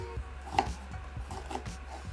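Soft, irregular knife taps on a cutting board as an onion is chopped, a few sharper knocks among quieter scraping cuts, close by with low background hum.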